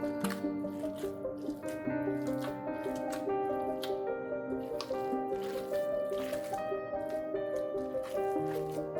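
Soft wet squishing of ground beef being kneaded by hand for patties, steady and close, partly masked by continuous background music.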